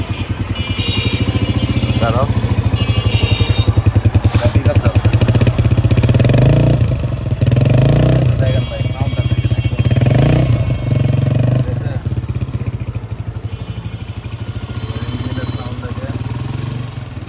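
A modified Honda CG125 motorcycle engine runs close by with a steady throbbing idle, revving up a few times, and a person talks over it.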